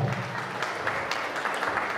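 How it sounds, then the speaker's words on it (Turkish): A crowd at a wedding celebration in Turkey claps steadily, with a brief, fairly faint patter of many hands. "Bir güzel alkışlar."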